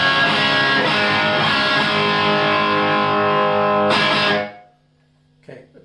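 Electric guitar through a custom-built Marshall Plexi '69 lead amp in its stock tone setting rings out a loud sustained chord for about four seconds, then is choked off, followed by a faint brief pick noise.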